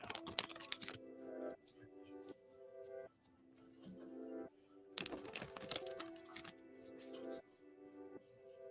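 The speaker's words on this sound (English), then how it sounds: "Let's shuffle for you now and see what's going on." Tarot cards shuffled for a pendulum reading: bursts of crisp riffling and flicking in two clear bouts, close and moderately loud, with softer handling between them and no talk.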